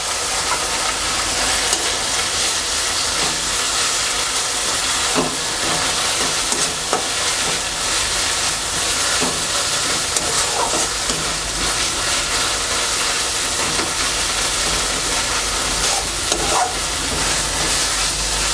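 Ginger paste and onion paste frying in oil for a katla fish curry, a loud, steady sizzle with occasional stirring scrapes running throughout, close up and without talk.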